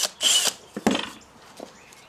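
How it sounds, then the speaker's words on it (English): A wire wheel brushes sway bar washers and nuts clean in short, rough bursts of scraping and whirring, close and fairly loud, with pauses between passes. "I'm just going to take a wire wheel right to these. This is to get them cleaned up."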